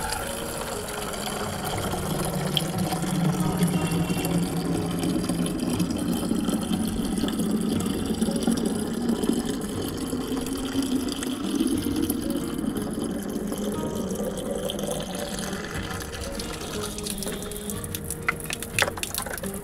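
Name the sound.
filling water from a tap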